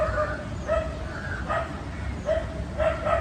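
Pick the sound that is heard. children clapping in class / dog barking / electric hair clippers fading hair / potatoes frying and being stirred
dog barking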